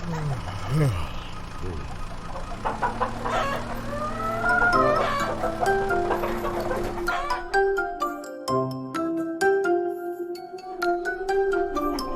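Chickens and a rooster in a farmyard cluck and crow in a cartoon setting, with voices and music over them, then a brighter musical passage takes over.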